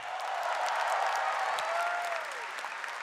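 Crowd applauding at a kickboxing fight night, a broad continuous roar of clapping heard from a distance with a sustained tone running underneath, steady throughout then easing slightly near the end.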